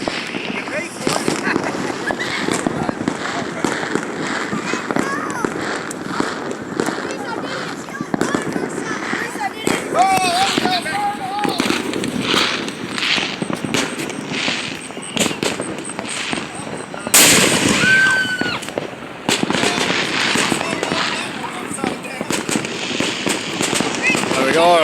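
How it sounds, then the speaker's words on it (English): Fireworks mortars launching and bursting at a Fourth of July celebration, crackling pops and sharp bangs scattered throughout, with one louder burst near the end, while people talk and shout over them. "like one of these mortars. Get ready for it."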